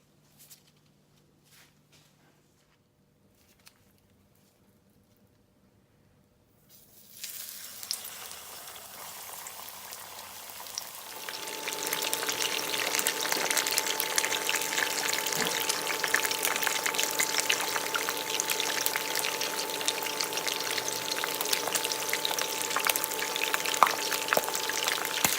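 Fish going into hot oil in a pot for Jamaican-style frying: near silence with a few faint clicks, then a rising sizzle that swells into a loud, continuous crackling fry.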